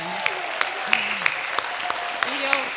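Applause from an event audience for storytellers, a continuous crowd clapping under a voice heard speaking over it, with a few louder claps and possible cheers punctuating the wash.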